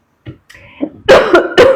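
Two loud, harsh coughs in quick succession, close up, after a few faint throaty sounds.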